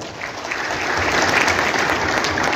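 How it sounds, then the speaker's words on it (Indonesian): An audience at a training session for party witnesses in Kupang claps, starting softly and swelling into steady, fairly close applause. "Berikan aplaus kepada."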